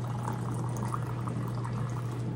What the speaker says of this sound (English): now we are going to add hot water